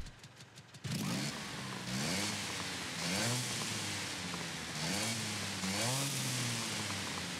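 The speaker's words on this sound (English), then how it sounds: "Let's hear the car first and let's see what it sounds like." A small compact car in the video game Forza Horizon 5 revs its engine in a series of rising and falling buzzy revs that are loud and steady, and an earlier quieter stretch comes first.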